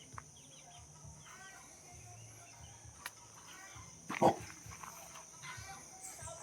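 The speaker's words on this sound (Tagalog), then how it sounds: "pamangking kong mga baboy" Pigs at a rural backyard piggery give a brief grunting squeal midway through, over faint farmyard background noise with other animals.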